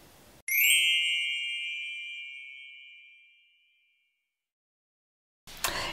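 A single bright, bell-like notification ding rings out cleanly and decays slowly over several seconds into silence, followed by a short burst of noise at the end; no speech.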